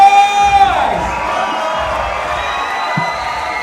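A fight crowd at SuperFight 10 cheers and whoops before the third and final round, a loud roar of shouts with a long sustained whistle or horn tone at first, then a steady wash of crowd noise.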